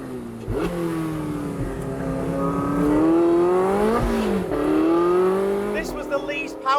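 Porsche 918 hypercar V8 engine revving hard on a mountain pass, a loud, continuous rising and falling engine note with distinct harmonics, close and sustained, with brief talk over it.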